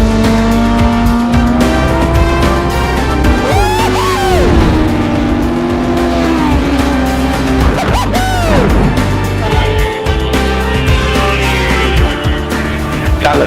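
A dirt bike ridden in a wheelie by a wheelie world champion, its engine revving loudly and continuously, the pitch rising and falling as the throttle opens and closes.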